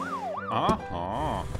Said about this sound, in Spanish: La ambulancia ya está llegando.